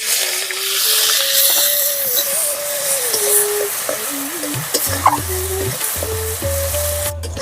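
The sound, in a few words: chopped onion frying in oil with spices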